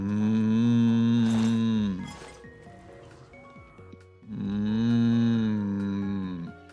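A human voice imitating a cow's moo as a deep closed-mouth growl, two long sustained low drones separated by a pause with faint background noise, loud and close.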